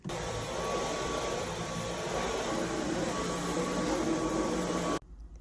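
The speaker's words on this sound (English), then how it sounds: "I'm gonna go ahead and vacuum though, because it definitely needs to be vacuumed" A vacuum cleaner runs steadily while cleaning a child's room at home, a loud continuous whine with a fixed tone that cuts off abruptly near the end, leaving near silence.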